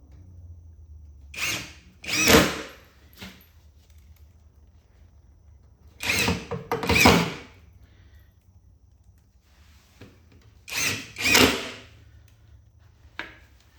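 Power drill driving 1 5/8 inch exterior screws through the back of a Spy Hunter arcade cabinet's wooden base, three separate bursts of whirring with short pauses between, close and fairly loud with no talking.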